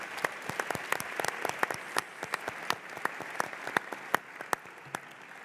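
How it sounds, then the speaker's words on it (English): Scattered, sparse clapping from an audience at a middle school science bowl championship, thanking the coaches, with individual claps ringing out irregularly and fairly quietly over several seconds. "Lorraine and Joy, please stand up and take a round of applause."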